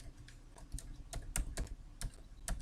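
A computer keyboard is typed on in a quiet room, with irregular light clicks and a few sharper keystrokes spaced unevenly over a couple of seconds and no voice.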